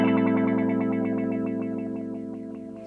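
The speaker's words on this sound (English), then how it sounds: "you also get Eventide's ring mod sounds" An Eventide ModFactor pedal's ring modulator effect colours a sustained guitar tone, giving a dense, metallic, warbling buzz with a fluttering pulse that slowly fades over about three seconds, played alone.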